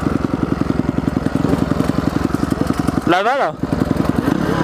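A KTM 125 motorcycle engine runs nearby with a steady, fast pulsing beat and one brief rev in the middle, while a person talks over it.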